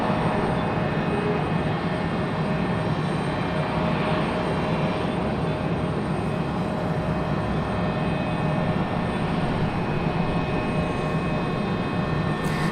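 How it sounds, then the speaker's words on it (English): A Southwest Airlines plane taxis toward the end of the runway at Raleigh-Durham International Airport in the early morning. Its engines give a steady, broad roar that holds at an even distance throughout, no voices. "Southwest making its way to the end of the runway there."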